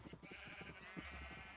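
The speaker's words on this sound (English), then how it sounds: "Got an army of sheep right here" Sheep in the video game Minecraft bleat in a quick cluster of short, wavering calls, sounding close and overlapping, with no talk over them.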